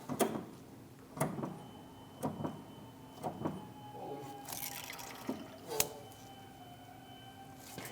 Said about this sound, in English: We can crack that bleeder open.